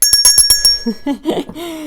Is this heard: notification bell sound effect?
yes